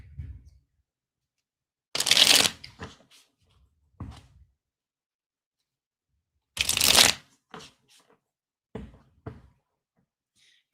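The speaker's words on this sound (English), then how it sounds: "while I'm shuffling here" Tarot cards are shuffled by hand in two bursts of riffling, each followed by several softer taps and squares of the deck, close and with quiet gaps between.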